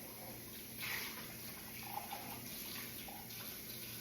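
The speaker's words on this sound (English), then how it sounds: "We'll just fill this up with water and then we'll dip out of it" Warm water from a tap filling a container in a home kitchen, a faint, steady running hiss with small splashy surges, heard quietly throughout.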